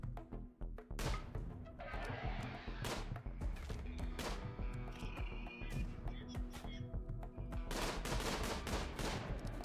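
Gunfire in the video game RimWorld: sharp, loud shots come in irregular bursts, including a tight rapid volley near the end, over a busy background.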